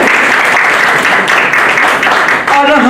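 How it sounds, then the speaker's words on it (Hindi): Dense, loud applause from an audience for soldiers at a Rakhi event, steady and close throughout, with a voice briefly emerging near the end. "एक बार हम अपने फौजी भाइयों के तालियों के साथ आज के कार्यक्रम की शुरुआत करेंगे।"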